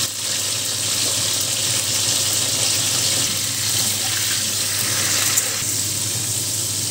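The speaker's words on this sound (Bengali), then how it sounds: "একটু ভেজে নেবো ভালো করে কপিটাকে" Cauliflower frying in white oil in a pan, a steady dense sizzle that holds evenly throughout with faint stirring, close and fairly loud, no voices.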